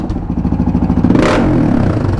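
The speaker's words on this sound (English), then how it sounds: "So, give her some revs." Motorcycle engine revved up close, a rapid pulsing idle climbing into a loud rising rev, then holding at a higher, rough roar.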